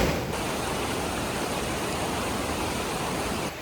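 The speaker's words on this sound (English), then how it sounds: "You're not going to get much closer to a waterfall than this." Blakeney Rapids in Canada, heard from very close: a dense, loud, constant rush of falling water, with no other sound above it.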